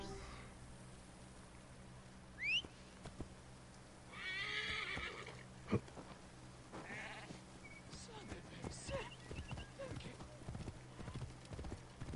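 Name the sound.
undead horse neighing and galloping in a video game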